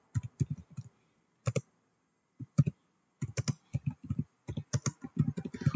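Keys clicking on a computer keyboard in short bursts of taps with pauses between, close and clear with no talk, while a French-speaking instructor enters grades on a keyboard without accents.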